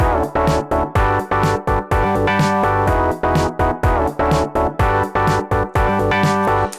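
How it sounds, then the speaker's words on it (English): Rootless major 9 chords played in Ableton, a rapid run of short, punchy synthesized chord stabs in a steady rhythmic pattern, loud and upfront with no voices. "Now, these are the major equivalent of what we had before. They are major 9 chords"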